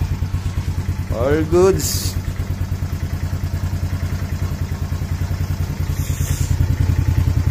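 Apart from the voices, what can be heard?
motorcycle kick-started and engine running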